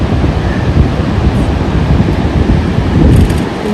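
Pacific Ocean surf and wind at Ocean Shores beach in Washington, a loud, continuous roar of rushing wind and breaking waves buffeting the microphone with no voices.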